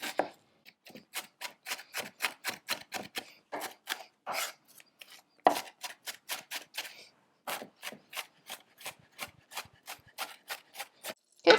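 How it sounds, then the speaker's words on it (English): Knife mincing onion on a cutting board while preparing spicy shrimp empanadas: rapid, crisp taps in quick bursts with brief pauses, close and clear, no talking. "I'm still going to try to mince it as much as I can to get it tiny"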